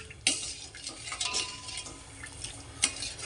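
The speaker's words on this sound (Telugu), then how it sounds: "మనము ఇది కొద్దిగా చక్కెర అనేది మెల్ట్ అయ్యే వరకు కలపాలి" Sugar being stirred into water in a pot to make syrup for kala jamun. A spoon scrapes softly and gives two distinct clinks, all faint and close.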